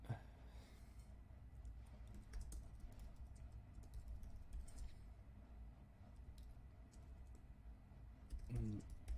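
Computer keyboard typing clicks along in quick, irregular bursts, close and fairly quiet, with short pauses between runs of keystrokes and faint room noise underneath.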